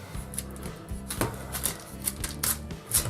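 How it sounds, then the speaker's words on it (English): A knife cuts the core out of a quartered cabbage for homemade sauerkraut, making a run of crisp, close clicking and crunching cuts with steady rhythm and no voices. "And we're going to cut out the heart."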